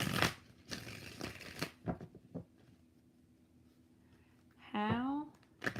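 Tarot cards shuffled by hand during a live reading, a few bursts of riffling and sliding at close range, broken up by speech between them and a brief spoken exclamation near the end.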